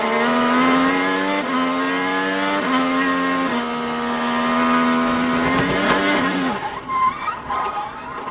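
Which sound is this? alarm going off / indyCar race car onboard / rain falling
indyCar race car onboard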